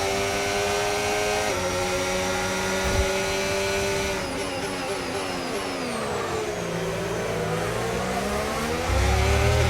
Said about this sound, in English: The Ferraris are battling.